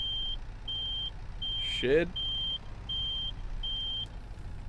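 Reversing beeps from a forklift-style vehicle in Farming Simulator 25 repeat steadily in a regular on-off rhythm, with an engine rumbling beneath and a brief spoken word cutting in midway.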